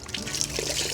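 Cloth dipped and wetted in a clean bucket of water during car detailing, a close, steady sloshing and trickling of water with no talk.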